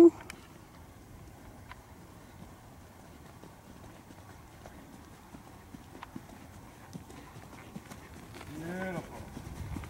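A large horse trots around a riding ring, its hooves landing in a soft, steady clip-clop rhythm under a quiet instructor's voice, with a horse snort or nicker rising near the end.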